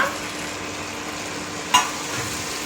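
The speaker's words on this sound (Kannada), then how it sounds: "ಈ ಒಗ್ಗರಣೆ ಒಳಗೆ ಚೆನ್ನಾಗಿ ಫ್ರೈ ಆಗಬೇಕು ಬೆಂಡೆಕಾಯಿ." Chopped okra fries in an oil tempering in a pan, a steady, fairly loud sizzling hiss with one sharp clink of a spatula partway through.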